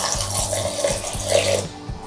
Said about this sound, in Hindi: इसमें हाफ कप दूध मिला देते हैं।